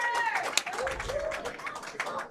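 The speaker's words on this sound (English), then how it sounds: "The main crowd erupts" A candlepin bowling crowd cheers and claps after a strike in a mixed international doubles playoff match, a short burst of applause and shouting from a small room of spectators.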